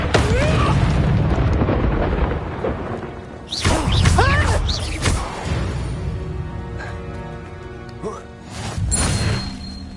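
An Incendio fire spell bursts in Hogwarts Legacy, a loud whooshing blast with crackling flame that swells and fades amid other spell effects and game music.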